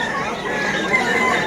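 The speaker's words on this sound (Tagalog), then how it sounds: "Mga manok, ang ganda." Chickens cluck in a dense, continuous chorus at a pet market, close and fairly loud with a busy background and no clear talk.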